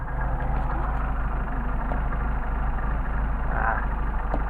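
A Mercedes 190SL engine on Solex carburetors idles cold at around 600 rpm, a steady low rumble with an even, lumpy pulse throughout, close and continuous with no voices.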